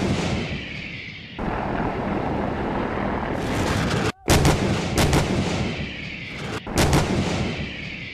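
A 2S1 Gvozdika self-propelled howitzer fires its 122 mm 2A31 gun in the open, a loud, rumbling roar with sharp blasts cutting through, then heavy booming echoes rolling away.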